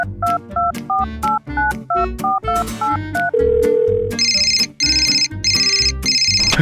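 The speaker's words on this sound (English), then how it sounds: "I have a phone call" A phone ringtone for an incoming call plays loudly and close: a repeating two-note melodic pattern, then a brief steady tone, then bright, high electronic chirping pulses in regular bursts.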